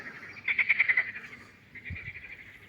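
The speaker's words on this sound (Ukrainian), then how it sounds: "Жабки квакають." Frogs croak on the Dnipro river at Kamianske on an early summer morning, a quick rhythmic burst of about five calls followed by a fainter, drawn-out croak, all quiet and somewhat distant.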